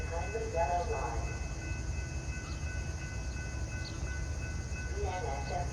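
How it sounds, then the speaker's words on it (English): BNSF commuter train pulling into Downers Grove station, a steady loud rumble of rolling cars with a faint high ringing tone, while a station announcement voice speaks at the start and end. "train number 1233 to Aurora is now arriving"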